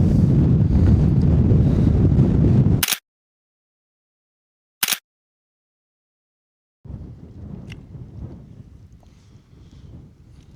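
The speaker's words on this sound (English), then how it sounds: "It's certainly a bit blowy up here today." Strong wind gusting across a Dartmoor hilltop, roaring into the microphone as dense buffeting rumble that cuts out abruptly, returns briefly, then resumes somewhat softer after a few seconds of silence.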